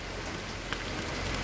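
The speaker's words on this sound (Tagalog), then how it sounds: "Ayan, lumakas na ulan." Steady rain falls on a surface, a dense even hiss that keeps building with a few sharper drop hits, with no voices present.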